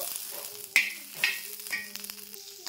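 Green chilies roast in a little oil in a pan, with a steady close sizzle, a few sharp crackles and scrapes from stirring.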